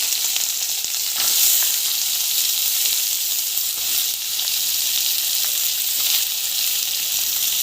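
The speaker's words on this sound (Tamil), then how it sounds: "வெங்காயம், பூண்டு, ஸோ மிளகாய் 3 வந்து போட்டு வதக்கலாம்" Onion, garlic and chillies sautéing in a pan, a loud, dense, continuous sizzle close up with faint stirring scrapes, no voices.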